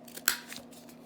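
Scissors snip paper for a handmade write-in bookmark, a short crisp cut with one sharp louder snip near the start and softer snips after, close and alone.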